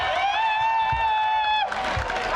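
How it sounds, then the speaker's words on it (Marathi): Crowd at the Swartarang 2K26 college cultural event at New Satara College of Engineering and Management applauds singer Riya Shingare; a sustained bright tone holds over a noisy hall, then broad cheering and clapping swell near the end. "जोरदार टाळ्या वाजवून जाऊ दे तिच्यासाठी."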